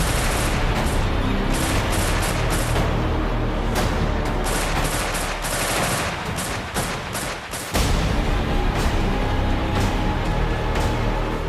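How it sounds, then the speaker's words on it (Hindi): Sustained, dense burst of AK-47 rifle fire aimed indiscriminately at police outside a shop in a Kashmir valley street, loud and continuous with one short gap before it resumes. "इसने अपने फिरन से AK-47 बंदूक निकाली और एक दुकान के बाहर खड़े पुलिस वालों पर अंधाधुंध फायरिंग कर"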